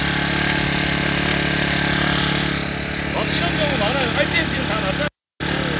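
A gas-powered brush cutter engine runs steadily after being started, a continuous mid-pitched drone that fills the clip with a brief dropout near the end and speech over it.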